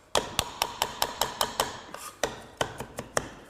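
A knife chopping fresh mint leaves on a board, a quick regular series of sharp taps in two bursts with a brief pause between, close and crisp.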